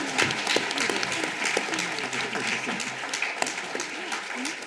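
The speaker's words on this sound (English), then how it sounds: "I'd like you to give our panel here a big round of applause for..." Audience applause for a panel at a restorative justice conference, a steady wash of clapping from a crowd that fills the room at moderate loudness, with some voices mixed in.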